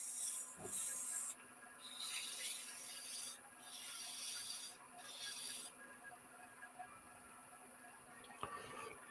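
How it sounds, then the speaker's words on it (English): A woodturning piece is sanded by hand with 180-grit paper in quiet, intermittent rubbing strokes, with short pauses between bursts and a faint click near the end. "now I'm just gonna go down to 180 with this. Just kind of sand this to fit a little bit."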